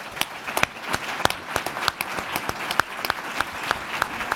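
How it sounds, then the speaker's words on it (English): Sparse, uneven clapping from a small audience, individual sharp claps standing out irregularly over a quiet room, fairly faint overall. "including a huge round of applause"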